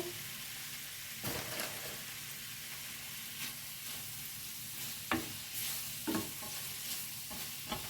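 Shrimp frying in a pan with pearl couscous and chorizo, a continuous sizzle broken by several stirring scrapes of a spoon against the pan, close and alone.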